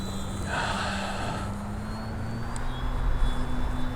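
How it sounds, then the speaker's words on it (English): An OMP Hobby Challenger RC airplane on skis flies at about half throttle, its motor a steady, fairly distant drone that rises slightly toward the end, with wind noise and no talking. "I'm just flying around at like barely half throttle and it's perfect"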